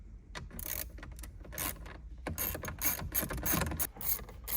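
Close, rapid clicking of a ratchet wrench working T25 bolts on a Lamborghini Gallardo steering wheel, in uneven bursts with short pauses and some metallic rattling.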